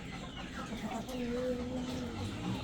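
A rooster in a breeders' pen clucks softly in short, low calls, close but quiet, with someone talking nearby on a cold, overcast day.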